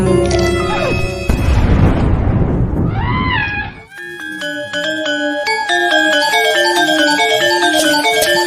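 A firecracker explosion in a Javanese comedy short film: one loud, sharp burst with a noisy crackling tail lasting about two seconds, followed by bright chiming musical tones.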